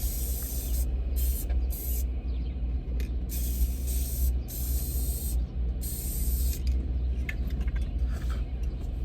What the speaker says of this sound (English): About to just spray the rest of this on and get the sealant to stick.